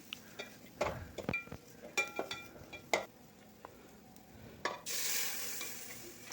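Cooked beef and meat masala fry in a pan while a spoon scrapes and clinks against the metal, irregular stirring knocks over a low sizzle that swells into a louder, steady hiss near the end.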